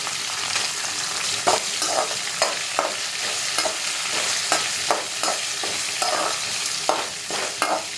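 Broken cashew nuts, curry leaves and green chilies fry in a pan for ven pongal, giving a steady close sizzle with frequent rhythmic spatula scrapes and taps throughout; no one talks.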